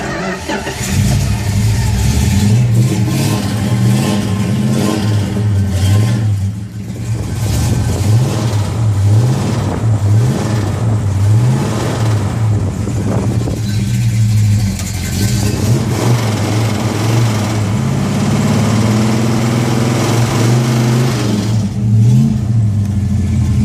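A 1971 Plymouth GTX with the V code engine idles loud and close with a slight lifter chatter, its deep exhaust note rising and falling through repeated revs.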